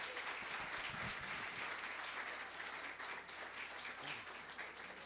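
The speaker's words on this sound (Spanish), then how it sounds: "un aplauso para David y que disfrutéis mucho." Audience applause at an evening science talk, a continuous, even patter of many hands clapping, fairly quiet and distant, with no speech.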